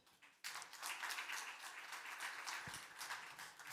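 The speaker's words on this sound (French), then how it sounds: "Philippe Berton, qu'on applaudit." Audience at a biotech pitch session breaks into applause, a sudden burst of many hands clapping that stays steady and fairly faint at a distance in a conference hall.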